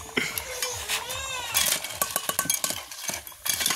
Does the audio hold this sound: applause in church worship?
no